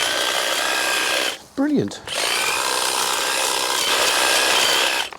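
Makita DUH 506 cordless hedge trimmer running with a loud, continuous high buzzing whir that cuts out briefly for a moment, then resumes; a voice speaks during the pause.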